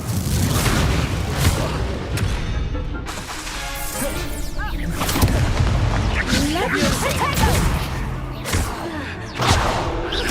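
In the Hogwarts Legacy video game, an Incendio fire spell goes off among loud bursts, whooshes and crashing impacts, with a continuous roar of combat and a voice heard over it.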